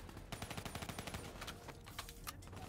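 Machine gun fire in the video game Call of Duty Black Ops 3 rattles in rapid, regular bursts, fairly quiet and distant under the game's ambient mix.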